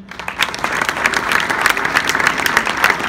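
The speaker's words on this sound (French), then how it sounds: "Ça s'applaudit." Audience applause at a launch event for the new Montpellier Hérault Rugby 2019/2020 jerseys, a dense steady wash of clapping from a crowd, moderately loud and sustained throughout without speech.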